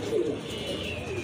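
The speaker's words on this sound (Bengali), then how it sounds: "খুবই সুন্দর টকটকে লাল গিয়ারের কবুতর।" Pigeons coo steadily from nearby at a dealer's stall among pairs of Danish and thick-beaked fancy pigeons, soft repeated throaty calls layered over low background hum with no talking.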